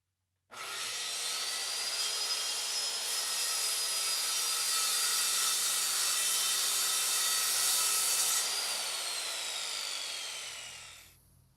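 A circular saw rips a long straight cut guided by a straight edge, a loud steady whine holding for about eight seconds before spinning down, with no talk.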